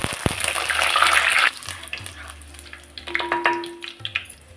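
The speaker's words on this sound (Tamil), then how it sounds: "கடுகு நல்லா பொரிஞ்சிட்டு இந்த டைமில் பச்சை மிளகாய் கட் பண்ணி வச்சுருந்து போட்டோம்னா காய்ந்த மிளகாய் கறி லீஃபையும் போடுவேன்" Mustard seeds, green chillies, dried chillies and curry leaves crackle in hot oil for a sardine curry. A loud, dense sizzle bursts out first, then eases into softer spitting with a few close metal clinks. No one speaks.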